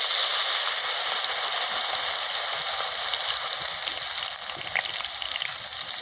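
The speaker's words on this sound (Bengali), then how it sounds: "এবার তেলের মধ্যে দিয়ে অল্প অল্প করে দিয়ে ভেজে নেবো" Potato chip slices for crispy aloo chips frying in hot oil, a steady loud bubbling hiss that fades a little toward the end, with no voices.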